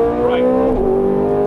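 Ferrari 430 Scuderia V8 on a race track, a steady high engine drone that dips sharply at an upshift and then carries on at lower revs, loud and close inside the car.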